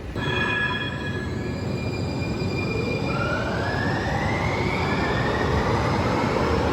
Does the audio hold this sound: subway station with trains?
yes